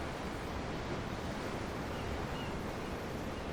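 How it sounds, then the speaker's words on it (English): Steady roar of ocean waves from the video game Tales of Arise, a broad, continuous wash of surf with a windy edge and no talking. "The ocean? Yeah. The waves."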